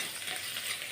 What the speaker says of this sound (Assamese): তেলতে হালধি আৰু নিমখখিনি দি পিঁয়াজখিনি ভালকৈ ভাজি লওঁ।